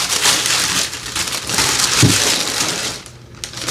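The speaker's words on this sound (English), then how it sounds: "here is the box. So I'm gonna open this first." Crackling, crinkling rustle of a cardboard box of hair dye products and packing being pulled open up close, with a soft thump partway through.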